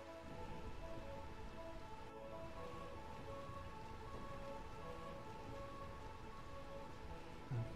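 Steady, dense rain pours in the rain-soaked Burmecia area of Final Fantasy IX, a constant wash with faint distant rumbles and no voices.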